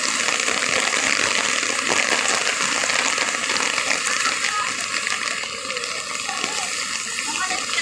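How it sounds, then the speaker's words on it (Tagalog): Floodwater rushing steadily during heavy rain at Balintawak near the LRT and market, a continuous loud gushing wash with voices talking over it. "Kaya tuloy-tuloy pa rin yung agos ng tubig."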